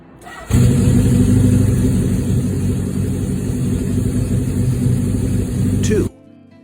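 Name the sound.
vintage motorcycle engine kick-starting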